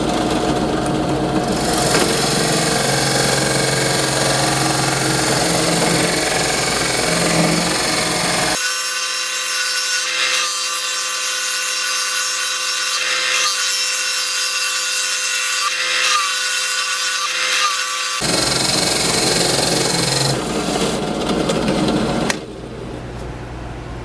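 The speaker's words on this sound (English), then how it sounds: "Here we are over at the drill press. I'm going to see if we can drill this out. It's a really hard wood." A drill press bores slowly into a block of very hard wood, a close, steady grinding whine that runs continuously for over twenty seconds, its tone shifting in the middle stretch before stopping near the end.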